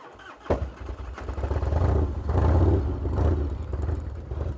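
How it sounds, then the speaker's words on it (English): An Evo Harley FatBoy carbureted motorcycle engine cranks and catches, then settles into a loud, lumpy, pulsing idle with a few rises in revs, close by and with no talk. "I'm excited to power this bike up."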